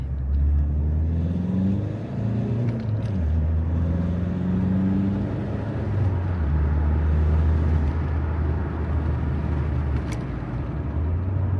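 A Ford car's diesel engine drones steadily in second gear at about 2000 rpm, a loud, low rumbling hum that shifts pitch slightly as the car drives, heard from inside the cabin.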